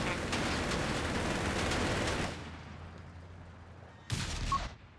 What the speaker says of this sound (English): Indian artillery for JLodge